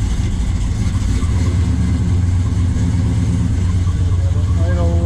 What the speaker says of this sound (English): It starts up, but as I mentioned, 396 is big block, like to warm up.